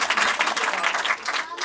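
A congregation applauds at a church service, dense continuous clapping from many hands filling the room, steady and fairly loud throughout with a faint murmur of voices beneath.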